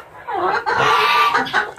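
A blue-egg-laying hen clucks close by, a run of loud, throaty calls in a short burst with brief pauses between them.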